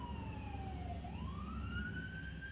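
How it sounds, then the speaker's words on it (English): A siren wails in slow rising and falling sweeps, fairly faint and distant over a low background rumble. "Siren."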